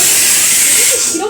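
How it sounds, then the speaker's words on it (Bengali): A pressure cooker holding eggs and potatoes boils on the stove, letting out a loud, steady hiss of steam that holds almost unchanged throughout, with faint background sounds at the end. "প্রেসার কুকারে ডিম আলু একসাথে সেদ্ধ বসিয়ে দিয়েছি"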